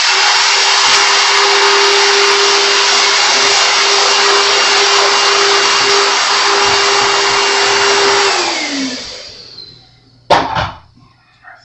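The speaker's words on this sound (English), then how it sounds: "I do still have my vacuum in here." A shop vacuum roars steadily in a guitar repair workshop, loud and close for about eight seconds before its motor winds down and stops, followed by a sharp knock and some faint handling noise.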